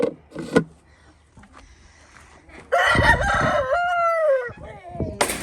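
A rooster lets out a loud, close crow that rises and trails off, preceded by a few scattered clucks and knocks.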